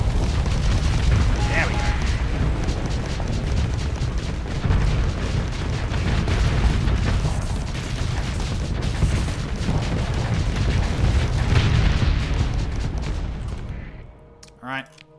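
Missile explosions rumble through a Starsector space battle, a dense, continuous barrage of booms and blasts layered over one another, fading out near the end as someone speaks briefly.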